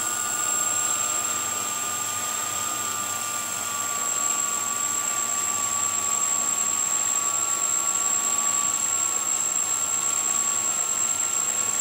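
A Flying3D X6 hexacopter's motors whine steadily and loudly up close while the supply voltage drops, with a high, constant tone that continues without any talking.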